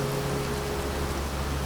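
Rain falls steadily in an even, continuous hiss of drops, close by and unbroken, with a low steady hum beneath and no voices.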